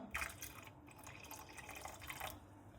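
Cold water pours from a tap into a kofta and yogurt mixture in a home kitchen, a soft continuous splashing and trickling stream lasting a few seconds, fairly faint with no talk.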